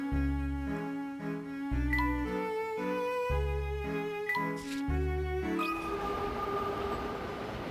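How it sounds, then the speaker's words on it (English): A train running in the Professor Layton video game, with a rhythmic, repeating low chug under a stepped melodic tune, then a broad rushing rumble taking over near the end. No voices. "The train will take us back to Flatstone Street in a jiffy."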